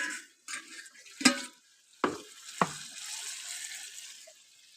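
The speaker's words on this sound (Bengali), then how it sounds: "এখন আমি জল দিয়ে দেবো।" Hot water poured into Kashmiri potato curry cooking on a clay stove sets off sharp hissing bursts, a few quick splashes followed by a lingering soft sizzle and bubbling that gradually fades.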